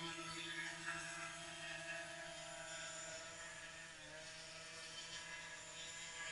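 A hovering drone sends out a steady, tonal whine from its spinning rotor blades that holds level and continuous for several seconds, heard alone without talking.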